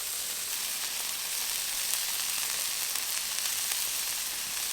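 Dry-aged brisket burger patties sizzle on a Pit Boss griddle, a steady, dense, bright frying hiss that stays even and close throughout with no voices.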